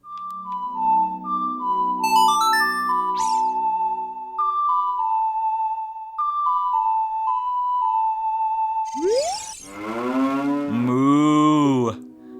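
A cow in The Legend of Zelda: Ocarina of Time lets out a loud, drawn-out moo after a melodic ocarina tune. The moo is synthesized and wavering, and it stands alone near the end.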